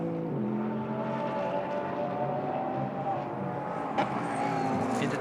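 A GT race car in the Blancpain Sprint Series brakes for the final corner, its engine droning steadily at close range with a sharp click near the end and commentary running underneath.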